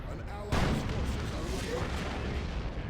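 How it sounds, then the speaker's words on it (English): A Devastator cannon firing in the strategy game Dawn of War 2: a sudden loud boom followed by sustained rumbling battle noise and scattered impacts, with a voice talking underneath. "Nice Devastator shot going into the darkness there."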